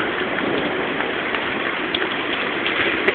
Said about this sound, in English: Sterling and Hodgkiss going into the rain and the lightning storm